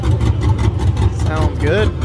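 A cammed car engine idles at a car meet, a deep lumpy rumble with an uneven, choppy pulse, heard close with crowd voices and chatter over it.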